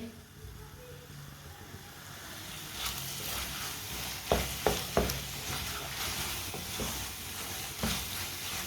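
Turnip curry with garam masala stirred in a pan over a lit stove, a steady frying sizzle under repeated scraping strokes of a spoon, with a few louder knocks against the pan midway.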